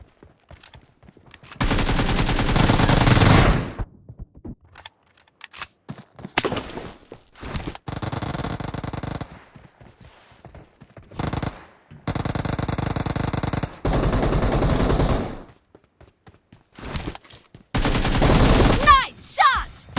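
Bursts of automatic gunfire in a 4v4 PUBG Mobile match, loud and close, fired in several separate volleys with short silent gaps between them, along with a few lighter clicks and scuffs.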